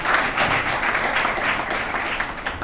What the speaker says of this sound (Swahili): Naomba tuongeze makofi kwa ajili yake tafadhali.